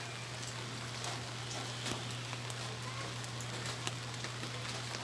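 Steady rain patters down on a backyard garden, a dense, even hiss with scattered closer drops and a low constant hum beneath it.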